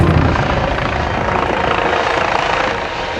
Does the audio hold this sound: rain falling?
no